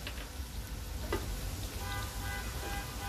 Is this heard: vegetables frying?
yes